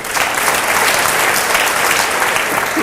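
Loud, dense clapping from an audience in a lecture hall, steady and continuous from start to finish with no talk over it.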